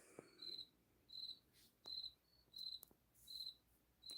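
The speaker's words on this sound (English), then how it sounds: "We're looking for a cricket." Indoor cricket chirping in regular short bursts, roughly five or six trills spaced evenly, faint and alone with soft clicks between.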